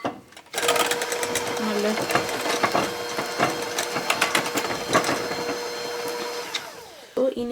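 Electric hand beater whirring steadily through plum cake batter with eggs, a loud close motor drone with rattling, clattering bursts as the beaters knock the bowl, while someone speaks briefly over it.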